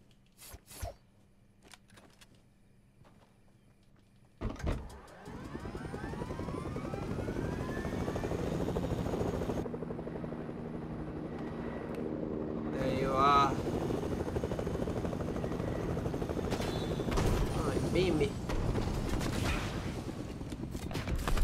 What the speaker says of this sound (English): We can get in our chopper.